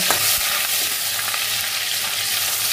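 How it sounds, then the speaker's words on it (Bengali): Two bay leaves are stirred in butter melting and sizzling in a pan, a steady close frying crackle with soft scrapes of stirring throughout. "এবার এর মধ্যে দেব শুধু এই 2টো তেজপাতা, আর দেব বাটার দিয়ে একটু নাড়ব।"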